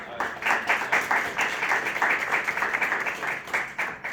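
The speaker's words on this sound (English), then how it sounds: "if we could give a round of applause" A lecture audience at a Harvard blockchain event gives a round of applause, dense steady clapping from many hands filling the room throughout.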